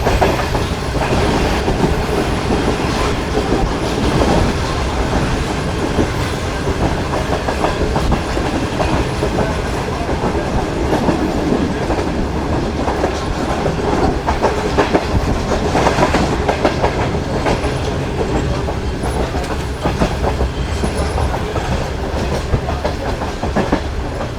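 The Shalimar Express rolls at speed between Bahawalpur and Karachi, its wheels clattering in a continuous rhythmic rumble with dense clickety-clack over the rail joints, loud and close from inside the carriage for the whole stretch.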